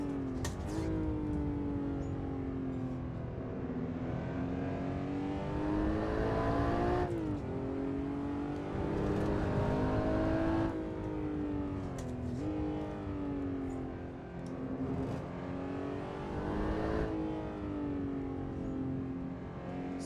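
The engine of a 996-generation Porsche 911 GT3 RS revs hard and repeatedly, a loud, close, high-pitched wail that climbs, drops and climbs again in several long sweeps.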